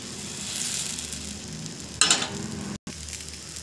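Wheat flour dosa batter poured onto a hot pan sets off a steady sizzle, with a brief brighter hiss burst as the batter hits and spreads, close and without talking.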